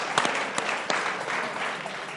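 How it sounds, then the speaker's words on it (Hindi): Clapping from a small group of people in an informal cricket-themed comedy segment, a short burst of scattered claps with a few sharper hand strikes, moderately close, no talk over it. "पावर प्ले के लिए ताली होनी चाहिए"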